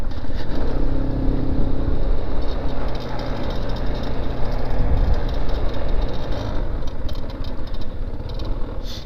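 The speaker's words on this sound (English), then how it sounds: "that's Scott and his Kawasaki 650R" A green 2020 Kawasaki Ninja 650R motorcycle rides up near a gas pump, its steady engine drone loud and continuous throughout, mixed with broadband road and traffic noise.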